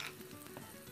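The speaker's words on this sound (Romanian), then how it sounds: "Trebuie să-i prăjim bine cartofii pe ambele părți, da?" Potatoes fry in a pan with a dense, steady sizzle and crackle, close and unbroken for a brief moment with no voices.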